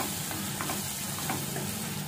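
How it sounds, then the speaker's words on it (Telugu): Onions fry in a pan for chicken curry, a dense, steady sizzle close by with faint stirring scrapes throughout. "ఈ ఆనియన్స్ అయితే కొంచెం బాగా గోల్డెన్ కలర్ వచ్చేంత వరకు అయితే ఏపుకుందాం"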